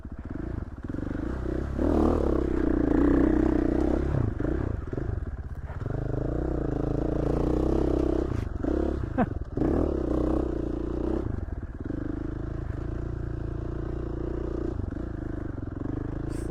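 A motorcycle slides along a backcountry dirt trail in Idaho, its engine droning and surging close by, with scraping and clattering from the tires and loose ground throughout.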